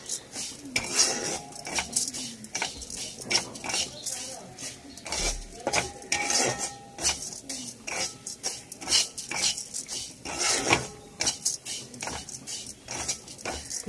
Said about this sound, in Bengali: মুগ ডালটা এখন ভেজে নিয়ে লাল করে ভেজে তারপরে সিদ্ধ করবো।